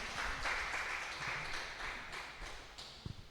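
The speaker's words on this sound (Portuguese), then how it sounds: "As palmas engrandecem Jesus." A church congregation claps steadily through a worship service, a dense, continuous patter of many hands at moderate distance with a few sharper claps standing out near the end.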